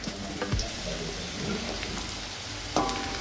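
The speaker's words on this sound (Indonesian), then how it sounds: "Setelah itu kita masukkan bawang putih dan cabai" Garlic and chili frying in a pan, a continuous close sizzle with a couple of sharp clatters as they are tipped in and stirred, no talk.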